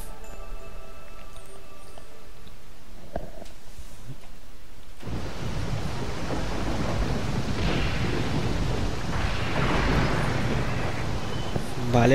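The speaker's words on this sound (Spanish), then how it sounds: "Día de lluvia, igual que en Madrid, en estas fechas." Rain and thunder from the video game Tales of Hearts R: a quiet opening gives way to a steady, loud wash of rainfall with rumbling thunder swelling midway and toward the end.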